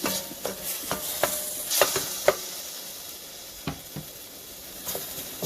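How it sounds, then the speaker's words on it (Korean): Marinated beef with a spoonful of garlic stir-fries in a pan for rice-cake soup, giving a steady close sizzle broken by sharp clicks and scrapes of stirring. "이렇게 10분 정도 재워놓은 소고기에 마늘을 한 수저 넣어 주셔요. 그리고 이거를 볶아 주세요."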